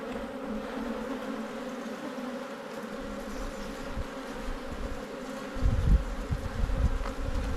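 Honey bees swarm and buzz around an opened hive, a steady dense hum throughout, with a few close rustles and handling knocks near the end.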